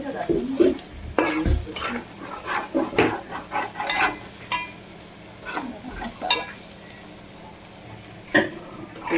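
Homemade garam masala frying in a Telangana- and Andhra-style boti curry, stirred in a pan: a steady sizzle under repeated scraping strokes and light metallic clinks of the spoon against the pot, close up.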